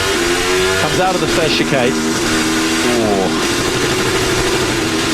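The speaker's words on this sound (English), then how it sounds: "Lots of juddering, big hesitations from the engine" A Formula 1 car's engine juddering and hesitating as it leaves a chicane, a loud stuttering drone whose pitch lurches and steps unevenly, heard under steady race commentary.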